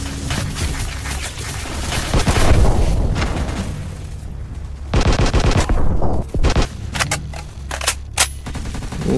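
Rapid bursts of automatic gunfire and booming shots fill a tactical shooter video game, coming in dense volleys that pause briefly and resume, loud and close, with occasional heavier blasts among the rattling fire.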